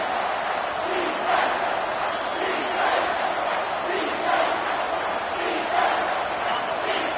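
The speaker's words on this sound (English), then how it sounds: "this crowd is bringing down the house." A packed football stadium crowd roars steadily through a college game between Ohio State and Michigan, a dense, loud wall of voices swelling in waves with no single voice standing out.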